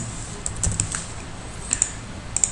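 A formula being typed on a computer keyboard: a few scattered, light key clicks with short pauses between them, close and clear over a quiet room hum.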